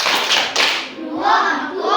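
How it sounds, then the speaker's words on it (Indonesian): A group of children claps together in a rhythmic classroom clapping game, close and loud, with voices chanting along through the claps. "Kita berikan dulu tepuk santiang dulu untuk kelompok mencair."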